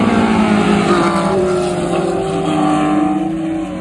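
A loud Ferrari 308 race car engine roars close by, its pitch rising and shifting as it revs, with no talking.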